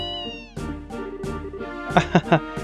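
Antoine, a cat in the video game Trails in the Sky SC, meows several times, with a drawn-out cry followed by short, close meows that end in a quick trio of louder calls.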